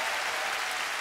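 Steady, dense applause from a Korean TV music show studio audience for a band, a continuous wash of clapping at even loudness for the whole second, with no voices over it.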